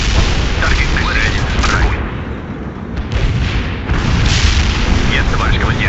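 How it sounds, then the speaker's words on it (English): Artillery barrage explosions in World in Conflict: Soviet Assault, a dense, loud continuous rumble of booms with a brief dip midway before the barrage swells again. "Launching a barrage"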